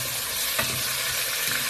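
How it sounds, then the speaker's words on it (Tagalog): Tomatoes fry in a pan with a constant bright sizzle, close and fairly loud, punctuated by a couple of faint stirring scrapes, with no voices. "Lutuin lang natin ng konti yung kamatis guys para lumabas yung kanyang katas"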